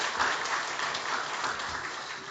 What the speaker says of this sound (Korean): 우리 찬양으로 영광 돌리는 우리 안수 집사님들을 박수로 우리 격려하도록 하겠습니다